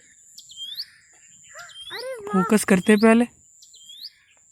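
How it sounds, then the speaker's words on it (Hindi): Wild birds chirp and tweet in a forest, with short high calls repeating near and far throughout. People talk over the middle of the birdsong. "बोलो पक्षी की आवाज एनिमेशन नहीं है"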